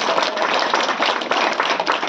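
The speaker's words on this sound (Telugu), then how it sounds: "మీరు ప్రజలందరూ చప్పట్లు తెలియజేయాలి" Villagers gathered to welcome their MLA clap together in dense, continuous applause, many hands close by and loud, with no voices over it.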